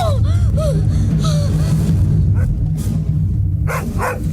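Tracking dogs on the trail of an escaped zoo tiger bark loudly and repeatedly near at hand, several sharp barks and yelps over a steady low rumble, with brief whimpering sounds near the end.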